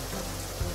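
Water sprays onto a cartoon garbage truck in a car wash, a continuous hissing rush like heavy rain that stays steady and loud throughout the short moment.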